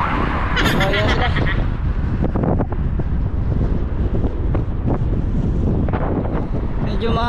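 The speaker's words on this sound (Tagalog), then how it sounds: "Medyo mahangin ng panahon ngayon." Strong wind buffets the microphone during a bicycle ride, with a constant low rumble, brief gusty bursts and faint voices underneath.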